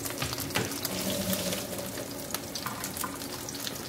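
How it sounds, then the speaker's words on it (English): Boiled potatoes drained in a kitchen sink, a steady rush and splash of hot water pouring through, close and continuous with small clatters against the pan. "Now I'm going to drain the potatoes."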